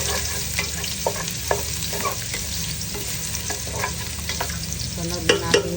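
Garlic sautés in hot oil for chop suey, a dense, loud, steady sizzle with scattered spatula scrapes and clinks against the pan, no talking.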